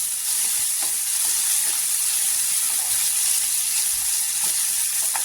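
Onion, green chillies and tomato sauté in oil in a pan, making a strong, steady hiss of frying with occasional stirring scrapes, close and continuous with no talk.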